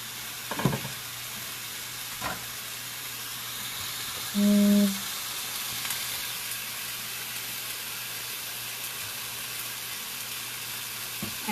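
Rice cooking in a pot on a stove, a faint steady hiss and simmer with a couple of soft clinks, and a brief electronic beep midway.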